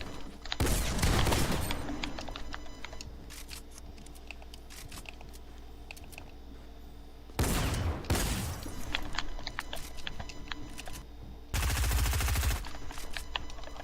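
Submachine gun fire in a video game comes in three loud bursts of rapid shots, separated by quieter stretches of game ambience.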